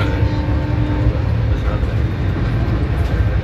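Rajdhani Express running between Sealdah and Delhi, heard from inside the coach: a loud, steady low rumble and rattle of the moving train throughout.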